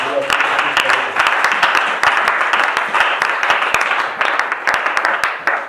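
A church congregation applauds with sustained, dense clapping that swells and dips slightly, loud and close, with voices mixed into the crowd.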